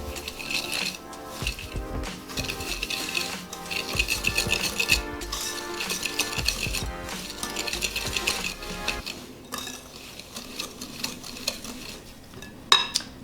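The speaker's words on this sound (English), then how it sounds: "Mix your sugar and oil until the mixture looks like wet sand." A utensil stirs brown sugar, white sugar and oil in a bowl, giving steady scraping and clinking against the sides, close and continuous, with brief louder knocks near the end.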